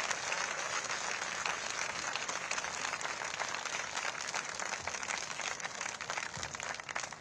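A crowd gives sustained, dense applause for Chief Minister Yogi Adityanath at a Berger Paints manufacturing unit event, heard fairly quietly and evenly throughout, with no talking.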